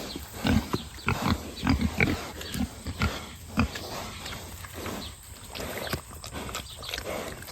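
Pigs on a farm grunt and snuffle close by in irregular clusters of short, rough grunts, over steady outdoor background noise.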